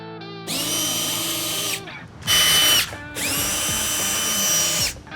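Power drill or impact driver spinning 8mm fasteners off the underside of a 2018-2025 BMW X5, three sustained whirring bursts with short pauses, close and loud, no talking.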